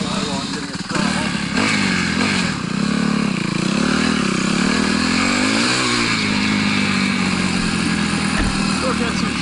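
A Suzuki RMZ 250 dirt bike engine revs loud and close at an ORV park, its pitch rising and falling through the run, while a person talks over it.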